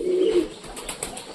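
Pigeons coo inside a cage, a close, low throaty coo at the start followed by softer rustling and faint calls.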